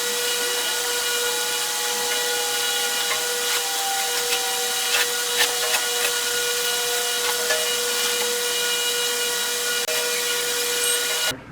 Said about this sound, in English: how I remove the old foam from the panel